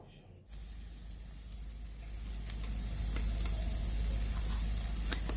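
Lamb kalaji, Libyan style, on a barbecue grill, a steady sizzle that starts abruptly after a brief quiet moment and grows slightly louder, with faint crackles and pops, no voices.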